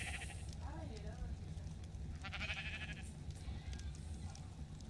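Sheep bleat in the video game Ark: The Island, a few wavering calls rising over a steady game soundscape while people talk throughout.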